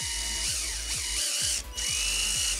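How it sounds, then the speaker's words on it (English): A power drill bores into plastic tubing for an aquaponics growing tower in a series of short, close, high-pitched whining bursts, each one starting up and winding down, with a brief pause partway through. "drilling into my mark"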